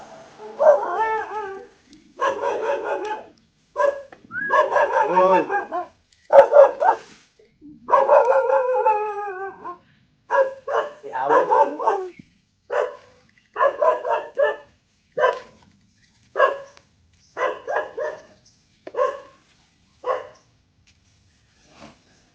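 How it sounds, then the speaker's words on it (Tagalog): Dogs bark repeatedly and loudly at close range, a steady run of sharp barks and yips with short gaps, some whining in between. "hinahabol pa ako ng aso mga kapapa"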